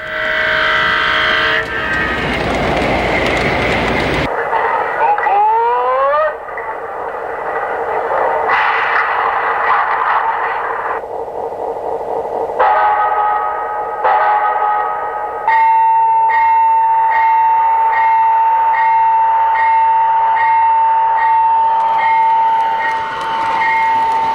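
An MTH O gauge model train's Proto Sound effects play in sequence: rumbling running noise, a rising whistle, bell-like dings and a long steady horn tone, loud and close.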